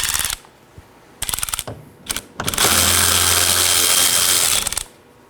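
A power tool works a 10mm bolt on the rear bumper of a 2014-2019 Nissan Sentra, starting with short rattling bursts and ending in a sustained, loud whirring run with a low hum, then stopping.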